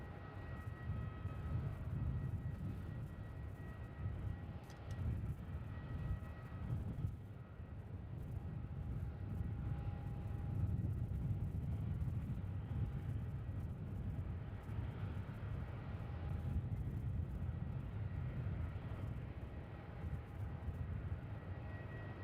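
Jet airliner on the runway at Melbourne Airport, a steady broadband engine roar with a few faint tonal whines, distant and continuous throughout with no talk.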